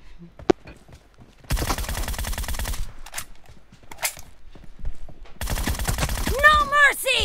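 Gunfire from a mobile shooter game in a team deathmatch: a sharp early shot, then dense bursts of rapid fire in two long stretches, with voices talking over parts of the action.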